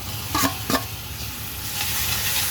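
Brinjal tipped into a hot pan for bharit and stirred, giving a low steady sizzle with a couple of brief scraping stirs near the start.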